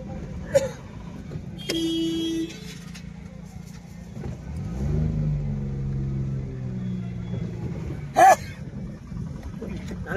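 Busy Sunday market road traffic with trucks passing and rumbling engines close by, a car horn tooting near the start and another sharp honk later, with general road noise throughout.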